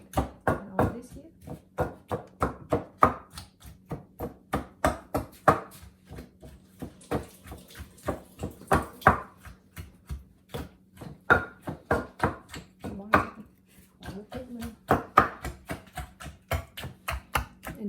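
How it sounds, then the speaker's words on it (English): Grapes and fruit are pounded hard in a container to break their skins for a fermented fizzy drink, a long run of sharp, rapid, fairly loud thuds in uneven bursts, close by with no talking. "Pound it hard, especially the grape. We want to break the skin."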